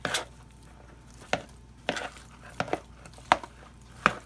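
Knife blade chopping through tender cooked potatoes for Southern potato salad, about eight sharp, close taps against the bowl or board at an irregular pace, with quiet gaps between and no talk.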